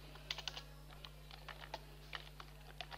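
Typing on a computer keyboard while entering a password and description into a data vault program, a steady patter of soft, quiet key clicks at an uneven pace, heard alone against a low electrical hum.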